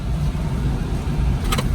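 Car driving, a steady low road and engine rumble heard from inside the cabin, with a brief faint chirp near the end and no talking.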